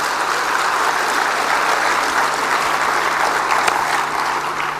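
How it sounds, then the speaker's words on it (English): A round of applause for Jack Ma from an event audience, a loud, even wash of many hands clapping that holds steady throughout without talk. "Let's give him a round of applause."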